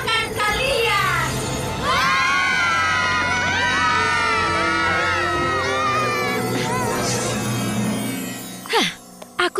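Cartoon crowd of ponies shouting and cheering in a loud, sustained roar of many high voices, with rising whoops and squeals, fading near the end.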